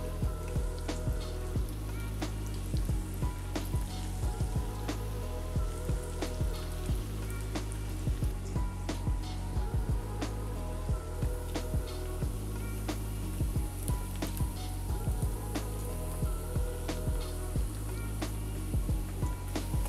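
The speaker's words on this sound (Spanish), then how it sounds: "ya que nuestra aceite está bien caliente, vamos a agregar nuestros plátanos" Plantain slices fry in very hot oil, a steady close sizzle and crackle with scattered pops running the whole time beneath a faint background hum, and no one talking.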